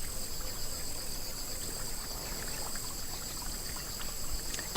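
Thin trickle of water dripping at the source of the Nile in Rwanda, a faint steady flow under outdoor ambience with high insect-like tones throughout.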